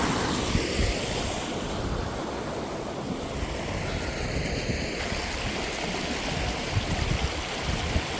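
A river swollen with fresh rainwater rushes past outdoors, a dense, steady roar of flowing water with a low rumble and some wind buffeting the microphone, close and continuous with no voices.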